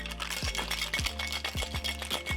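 Ice cubes rattle hard in a cocktail shaker as a Mai Tai with lime juice and cinnamon syrup is shaken, giving a rapid rhythmic clatter of several strokes, close and fairly loud, with no talking.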